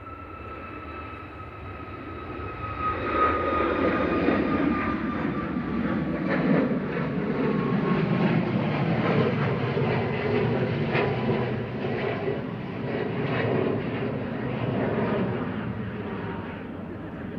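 A Ryanair Boeing 737 Max 8, operated by Malta Air, passes at Manchester Airport with a broad, steady jet roar that swells and holds for the length of the pass, heard from a moderate distance with no talking.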